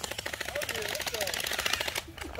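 Rapid rattling bursts of gel blaster guns firing during a family backyard gel blaster battle, fast repeated clicks with excited voices talking over them, briefly pausing near the end.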